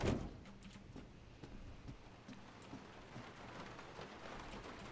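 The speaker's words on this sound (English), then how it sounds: "I want to go out in the pouring rain." Steady pouring rain in the game Resident Evil 7, a dense continuous wash with a brief louder burst at the start, then an even hiss holding at moderate level throughout.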